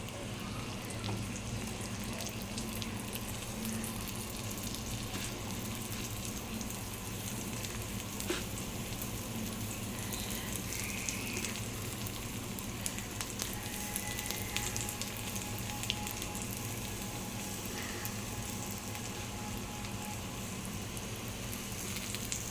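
Spinach vadis fry on a hot tava greased with a few drops of oil, giving a steady, close, unbroken sizzle and hiss with no talking.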